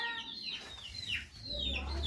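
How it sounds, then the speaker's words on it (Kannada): Village chickens, hens among them, clucking near and far in a rural home yard, with several short overlapping calls and a low background hum. "ಕೋಳಿ ಬರ್ತವೆ"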